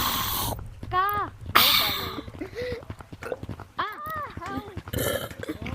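A young man lets out several loud, gurgling burps close up, mixed with other people talking and laughing around him.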